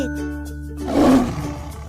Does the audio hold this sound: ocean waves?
no